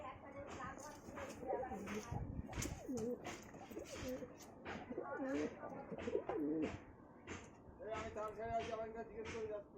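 Pet pigeons at a bird sale, including golden-eyed and black-eyed hens, coo softly in the background while someone talks steadily over them.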